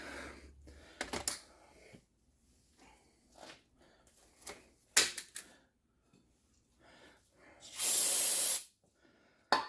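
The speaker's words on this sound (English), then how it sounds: "Spread some brake clean. Do both pins." Aerosol brake cleaner sprayed onto the front brake pins of a 2007 Ford Focus, mostly one loud, steady hiss of about a second near the end, preceded by scattered clicks and handling noises.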